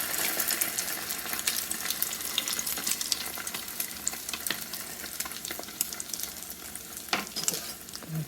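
Egg-soaked glazed French toast frying over medium-low heat in a pan of melted real butter, giving a steady close crackling sizzle with small pops throughout and no talking.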